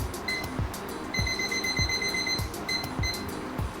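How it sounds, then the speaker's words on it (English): A kitchen timer goes off while spaghetti cooks, rapid bursts of electronic beeping in short repeated groups, close and fairly quiet, with light kitchen clatter underneath. "Here's my timer."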